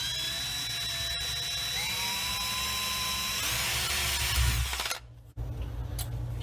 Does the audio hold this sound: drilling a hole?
yes